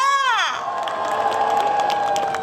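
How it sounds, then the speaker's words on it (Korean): A large crowd at an outdoor fan event in Busan shouts and cheers loudly and steadily, a dense roar of many voices with high-pitched screams and some clapping. It rises suddenly and holds for a few seconds. "그렇다면 다 같이 함성과 박수 3초"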